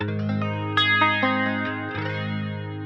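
A sustained clean electric guitar chord through a Line 6 Helix Jazz Rivet 120 amp model with chorus synced to a whole note, a slow, gentle shimmer, a few strums ringing out clearly with no one speaking.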